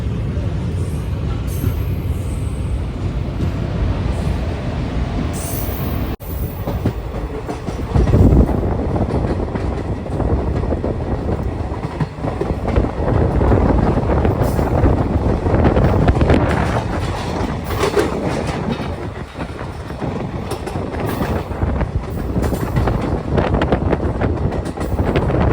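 An intercity express train running from Tirupati toward Tiruvannamalai, heard from inside as a steady, loud rumble of rolling wagons with faint clickety-clack and wind buffeting throughout, with no talking.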